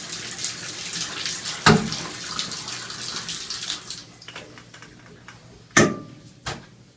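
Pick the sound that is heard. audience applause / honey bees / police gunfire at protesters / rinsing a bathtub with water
rinsing a bathtub with water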